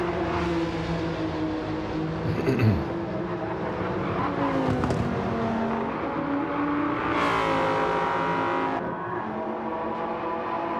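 Race car engine in Gran Turismo 7, a Honda NSX in a GT2 endurance race, droning steadily with a sustained roar that sounds strained and bogged down in fifth gear, loud and continuous throughout.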